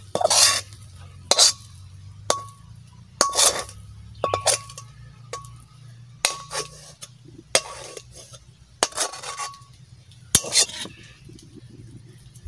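Cooked ripe mango pulp for mango leather is scraped out of a kadai onto a plate. A utensil gives a series of sharp scrapes and metallic clinks at an uneven pace, close by, with no talking.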